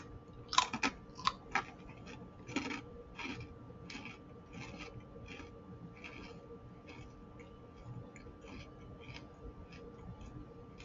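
Black sesame karinto, a twice-fried crunchy snack, is bitten and chewed close to the mic: a few sharp crunches at first, then a steady run of quieter crackly chews in a hushed room.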